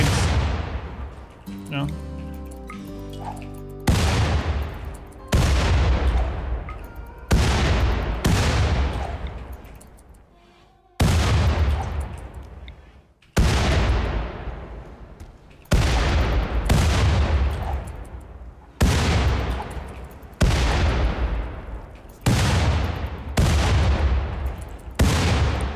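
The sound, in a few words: frag grenade explosions and gunfire in a video game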